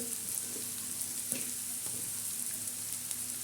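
Chopped onion softening in a pan, a steady low frying sizzle with occasional soft clicks of stirring, quiet and close, with no one speaking.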